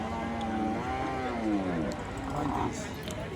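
A Sahiwal dairy cow at a farm sale moos loudly and long, its low call rising and falling, with other voices and farm noise around it.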